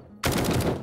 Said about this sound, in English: Oh, so this is a 3-round burst weapon